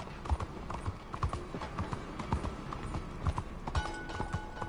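Horse hooves clip-clop in a steady trotting rhythm in the video game Red Dead Redemption 2, crisp repeated thuds close by, with faint background tones and no talk.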